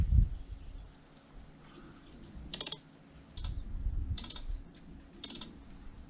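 Rapid keyboard typing comes in short dense bursts of clicks, with quiet stretches and low background rumble between the flurries of keystrokes.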